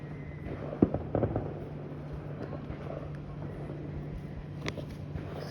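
Fireworks crackle and pop outdoors, a sharp burst near the start followed by scattered pops and a later bang over steady background hum and wind.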